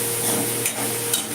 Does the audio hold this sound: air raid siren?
no